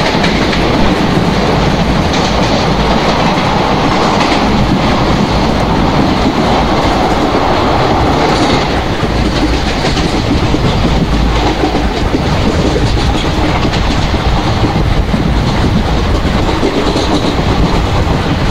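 Passenger train from Bhusaval to Katni running in the MSTS Open Rails simulator, with steady loud rolling rumble and continuous clickety-clack of wheels on rail joints throughout.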